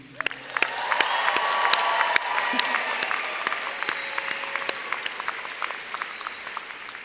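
A commencement crowd honoring the graduating class of 2017 bursts into loud, sustained applause mixed with cheers and whistles, swelling early and then thinning into scattered claps.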